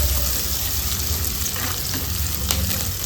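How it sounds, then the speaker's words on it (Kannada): Chopped onion fries in a clay pot for horse gram rasam, giving a steady, dense sizzle throughout, close and unbroken, with faint clinks and no talk. "ಈರುಳ್ಳಿ ಮಾತ್ರ ಚೆಂದ ಫ್ರೈ ಮಾಡ್ಕೊಳ್ಬೇಕು."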